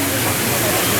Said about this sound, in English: Love the waterfall out in front.